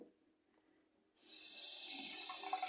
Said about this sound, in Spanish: sale el agua descontrolada, sale mucha agua, pero presión tiene